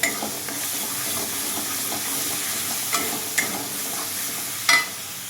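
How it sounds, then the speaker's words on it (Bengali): Fish frying in oil in a pan, a steady hiss and crackle with a few sharper clinks of a utensil against the pan, close and continuous with no voices. "তো এই মাছটা ভাজবো, চলো করে নিই"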